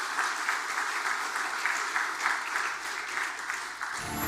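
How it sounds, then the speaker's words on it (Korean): A church congregation at a Sunday worship service claps steadily to welcome visiting Bible society members, a sustained even wash of applause that fades near the end. "한번 박수로 좀 환영해 주시기 바랍니다."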